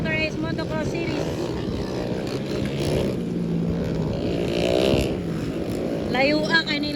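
Underbone motorcycles race in an open motocross final, engines buzzing and rising and falling in pitch as they pass at varying distances, with a commentator talking over the racing.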